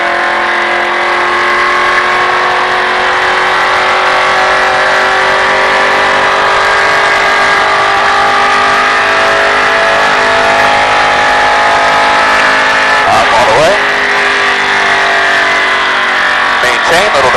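A race car engine holds a loud, steady drone under partial throttle at close range, the pitch slowly drifting, with a brief lift and blip near the end before the throttle comes back on.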